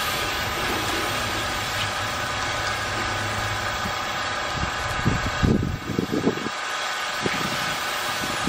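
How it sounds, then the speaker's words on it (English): Continuous mechanical drone of a running pressure washer with air in the line, with irregular sputtering bursts midway as the flow surges and stutters. "Got a little air in the line, you can hear that."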